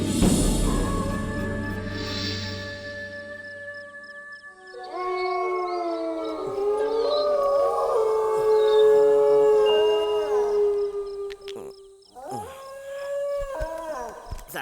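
Loud, drawn-out howling of a dog at night in a Hindi-dubbed South Indian action film, long wavering wails rising and falling with a brief pause before another howl.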